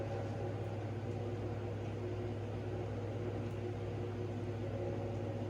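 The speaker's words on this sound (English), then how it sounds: "It's not my fault this fan is loud." A steady electric fan whirs continuously, a constant low hum and airy hiss with no breaks.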